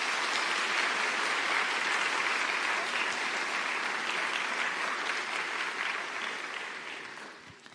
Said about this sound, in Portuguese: Aplaude mais uma vez essa mulher.